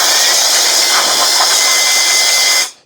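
A handheld blower drying robot vacuum parts gives off a loud, steady, high-pitched whoosh with a motor whine, running continuously close by before it cuts off at the end.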